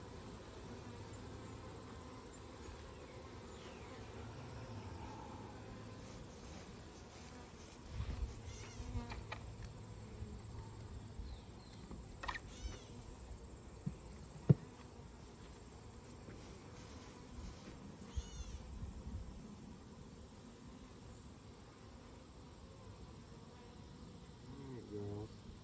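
Bees buzz softly and continuously around a hive, a low droning hum with a few brief louder knocks and rustles, no voices.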